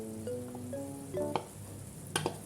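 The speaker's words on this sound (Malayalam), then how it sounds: "ഇനി ഇതെല്ലാം കൂടെ നല്ല പോലെ മിക്സ് ചെയ്യണം." A spoon stirs and scrapes potato masala filling for dosa in a pan, with soft sizzling underneath, occasional light clinks against the metal, and a faint tonal hum in the background.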